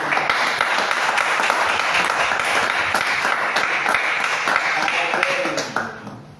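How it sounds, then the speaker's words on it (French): A church congregation applauding and cheering for the Lord, a loud, dense wash of clapping that holds steady before fading out at the end, with voices mixed into the crowd noise. "Les acclamations pour le Seigneur"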